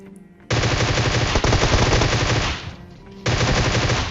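Automatic gunfire in the battle royale game PUBG, loud sustained bursts of rapid shots, a long volley, a brief pause, then another burst resumes.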